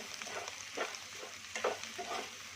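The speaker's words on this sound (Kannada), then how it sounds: "ಇವಾಗ ಇದು ಮಿಕ್ಸ್ ಮಾಡ್ಕೊಳ್ಳಿ ಚೆನ್ನಾಗಿ" A pan of drumstick leaves and egg stir-fry seasoned with pepper powder, stirred with soft scraping and a low steady sizzle, close and fairly quiet, with no talking.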